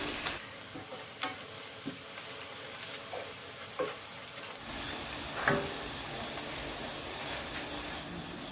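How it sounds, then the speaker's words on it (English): Coconut rice with black pepper, curry and paprika stirred in a frying pot, a soft steady sizzle with occasional scraping knocks of the spoon, close and fairly quiet, no talk. "Let's stir."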